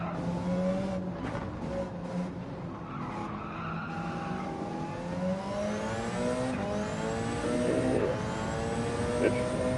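Race car in Gran Turismo 7 at Mount Panorama, engine whining and shifting pitch through a fast descent with tires skidding, while someone talks over it throughout.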